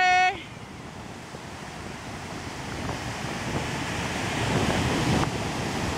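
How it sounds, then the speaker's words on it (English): Strong wind buffets the microphone at Bellows Beach Park in Hawaii, a loud roaring rumble over crashing surf that swells steadily over several seconds after a brief tone at the start. "It is fearsome winds."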